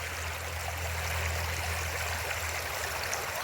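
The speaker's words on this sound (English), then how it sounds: "Push it through the sluice and see what it says." Stream water rushes and gurgles steadily through a sluice as material is washed, a close, continuous watery roar with no talking.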